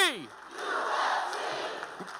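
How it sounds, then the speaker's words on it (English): A crowd of teachers at a union lobby day rally gives a loud, sustained cheer that swells and then fades, following a shouted call from a man on stage. "everybody give it a cheer"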